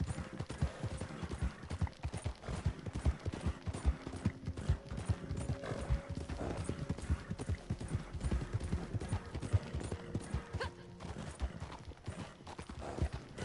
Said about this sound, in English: Now I've got a higher speed horse